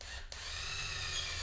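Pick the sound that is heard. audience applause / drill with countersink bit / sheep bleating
drill with countersink bit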